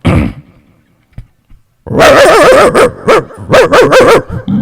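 A voice imitates a dog in a Gujarati comedy mimicry act, giving a burst of loud, rapid barks and yips after a short quiet stretch with a brief vocal sound.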